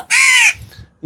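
A young crow chick gives a single harsh, drawn-out caw at close range, followed by faint low background rumbles.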